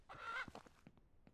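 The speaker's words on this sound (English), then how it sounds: "No! Freaking chickens!" Chickens in the farming video game Ranch Simulator give a short burst of clucking and squawks, followed by a few scattered softer clucks, all faint and with no talk.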